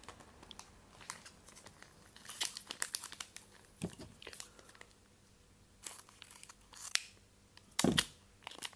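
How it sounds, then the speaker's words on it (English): Stiff foil booster pack wrappers from a My Little Pony card game crinkle and rustle up close in irregular bursts, with a few louder crackles, handled quietly without talk. "Love how foil and shiny the booster packs are."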